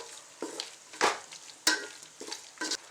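Onions, green chillies and tomatoes are sautéed in a pan for mushroom biryani, with quiet frying under several distinct scraping strokes of a spoon at irregular intervals.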